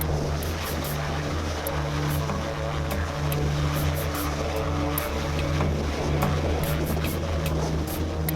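A US Coast Guard rescue helicopter hovers over ice during a rescue, its rotor and engine making a loud, constant droning throb with a low hum and rhythmic chop.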